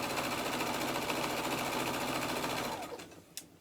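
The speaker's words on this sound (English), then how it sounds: "So I'm going to continue to sew these blocks" A sewing machine stitches quilt blocks in a fast, even, continuous hum close by, then slows and stops near the end, followed by a faint click.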